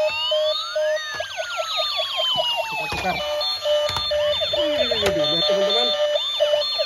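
Yellow and white toy ambulance siren wailing loudly in rising and falling sweeps, with someone speaking briefly over it.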